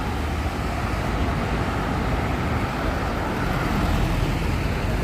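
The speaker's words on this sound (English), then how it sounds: "Oh yes, cars and cars and cars." Steady street traffic in Tokyo, cars passing continuously as a dense broadband roar that stays loud and even throughout, with no voices.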